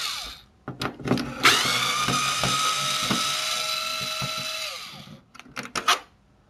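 A power screwdriver backs screws out of a PS3 20GB console being repaired for the yellow light of death, with one long whirring run between short bursts, clicks and handling taps, close and clear.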